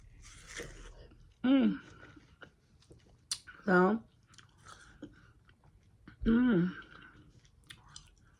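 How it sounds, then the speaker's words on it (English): Someone eats sweet watermelon close to the mic, with soft, wet chewing and crunching bites broken by a few short hummed murmurs. "this watermelon good. And it's sweet."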